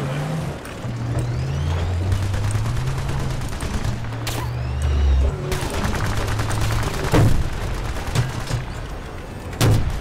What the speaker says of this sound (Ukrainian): Хтось по мені стріляє.